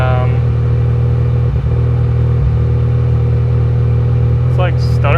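A V12 auction car's engine runs at a steady, deep idle, loud and close, with people talking over the rumble.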